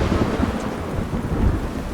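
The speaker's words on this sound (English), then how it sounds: "It's raining." Steady rain pours down while low thunder rumbles continuously underneath in the video game The Witcher 3, dense and enveloping with no voices.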